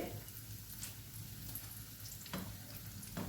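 Snacks deep-fry in oil over a medium flame with a soft, continuous bubbling sizzle, broken by a few sharper crackling bursts and heard alone at low volume.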